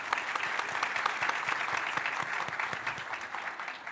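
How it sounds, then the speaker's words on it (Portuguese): An audience at a pharmaceutical-sector presentation breaks into steady, dense applause that holds at an even level throughout, with no speech over it. "uma salva de palmas, por favor"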